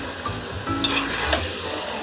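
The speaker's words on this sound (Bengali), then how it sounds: "মাংসটা কিন্তু এইরকমভাবে কষাতে হবে।" Mutton being sautéed in a pan for Bengali mutton curry, a loud close sizzle with steady hissing and scraping stirs, two sharper clatters marking the spoon moving through the meat.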